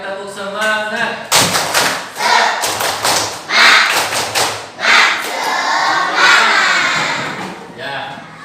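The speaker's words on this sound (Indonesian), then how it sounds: "Coba 1 kali tepuk semangat." A class of schoolchildren performs a patterned rhythmic group clap in a classroom, loud and close, with bursts of sharp claps and a few thumps spread over several seconds and children's voices mixed in.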